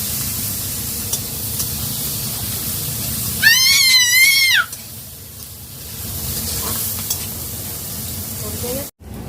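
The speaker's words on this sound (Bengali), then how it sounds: "পেঁয়াজটাকে আমি হালকা করে ভেজে নেব।" A steady sizzle of onions frying in hot oil runs throughout, briefly interrupted by a loud wavering cry in the background.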